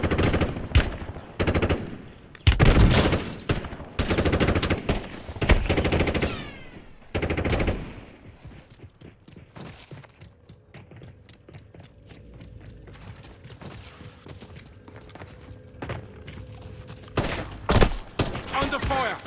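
Automatic gunfire in Call of Duty Warzone rattles out in loud, rapid bursts at the start. It falls to a quieter stretch under game voice callouts, then breaks out in more bursts near the end.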